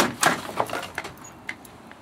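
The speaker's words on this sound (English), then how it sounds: "Then just pull the radiator out." Someone pulls an old radiator out of a car: a handful of brief clunks and light metallic rattles, close and fairly quiet, spaced irregularly over two seconds.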